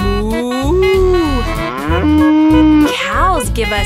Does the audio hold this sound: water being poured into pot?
no